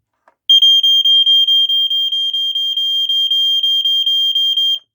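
An Amway Amgard (Statitrol) E-8444 smoke alarm emits a rapid, piercing series of evenly spaced high-pitched beeps during a test, loud and close, continuing for several seconds before stopping.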